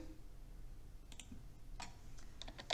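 Keys on a computer keyboard are tapped in a few quick, light clicks against a low hum, sparse and irregular, with a small cluster near the end.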